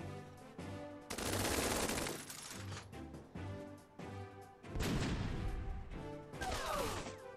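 Bursts of heavy gunfire from units opening fire in the strategy video game Tiny Metal, loud rapid volleys alternating with shorter pauses under a steady background music bed.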